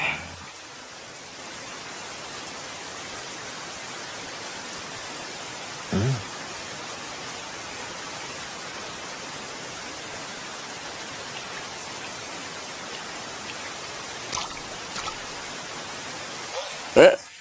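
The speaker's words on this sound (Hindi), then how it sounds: "बारिश हो रही है।" Constant, even hiss of falling rain fills the scene, with a few faint knocks and drips rising briefly above it.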